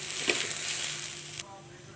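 Green peas dry-roasting in a pan for a spicy village-style thecha give off a soft, steady sizzle with light stirring scrapes. The sizzle cuts off abruptly near the end.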